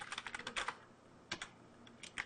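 Quiet typing on a computer keyboard, a few quick clusters of light key clicks separated by short pauses, close and faint with no talking.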